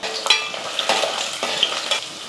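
Steady sizzling of a handful of garlic frying in hot oil, with a few stirring scrapes and clinks of a utensil against the pan.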